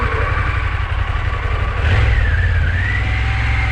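Motorcycles ridden by Italian bikers pass on a mountain road near the Col de la Bonette, a loud continuous engine rumble with a rising rev swelling near the middle, heard over steady wind and road noise.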